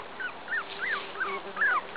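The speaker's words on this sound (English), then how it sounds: "This is the puppy's first time outside." Young puppies whimper on grass during their first time outdoors, about six thin, high rising-and-falling cries in quick succession, close and fairly soft, with no talking.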